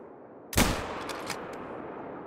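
One sharp, loud rifle shot while hunting in theHunter: Call of the Wild, followed by a ringing tail and a few faint distant cracks as it fades.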